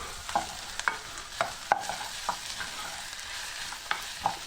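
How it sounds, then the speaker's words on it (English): Diced chillies fry in a pan for a Thai prawn curry, with a utensil scraping through them in about eight irregular strokes over a steady close sizzle; no one speaks. "we're just going to give those a little stir just for a second, just to get these working together."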